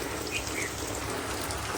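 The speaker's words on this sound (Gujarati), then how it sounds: "વરસાદ એવો જ પડી રહ્યો" Steady rain falls on a cattle farm yard, a dense, even hiss of drops hitting surfaces, constant and fairly close with no voices or other sounds.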